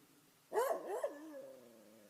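Wild dog caught in a survival trap gives a short whining yelp and whimper, a single close burst that trails off into a faint whine in a quiet setting.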